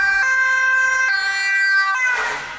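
An ambulance siren passes on the road, a loud steady two-tone wail that drops in pitch and smears into traffic noise as the vehicle goes by.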